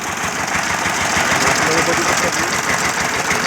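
A small farm tractor with a rotavator attached runs steadily as it turns in a tight five-foot space, its engine chugging continuously under a person talking.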